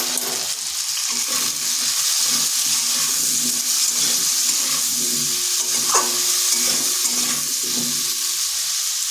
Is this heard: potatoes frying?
yes